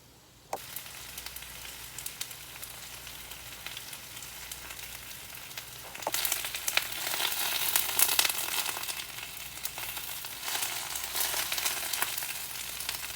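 Cabbage fries in a pan with a steady, close sizzle that grows louder and brighter partway through, with no voices.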